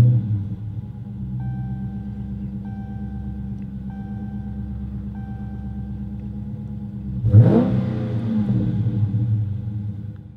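A 2016 Dodge Charger Scat Pack V8 fires up with a sudden loud burst near the end and settles into a rough, revving idle. Before that, only a low steady rumble is heard.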